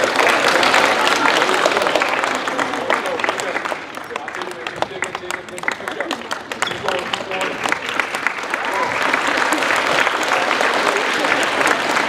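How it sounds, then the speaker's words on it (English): Middle school students clap and cheer for a classmate doing exercises in a school gym, a loud, dense burst of applause and shouting that dips slightly in the middle before swelling again, with voices mixed in. "Come on, cheer him on."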